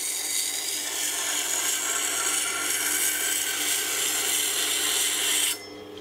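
CBN wheel grinding a knife blade with almost no pressure, a steady hissing rasp heard up close for about five seconds before it suddenly drops away.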